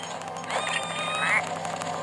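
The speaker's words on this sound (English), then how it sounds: "who has now picked up a duck for some strange reason" A duck picked up by a character in the LEGO Harry Potter Years 5-7 video game on Nintendo 3DS lets out a short burst of nasal quacks over soft game background sound.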